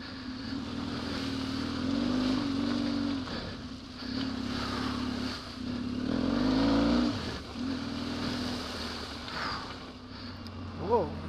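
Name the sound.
motorcycle crossing deep water off-road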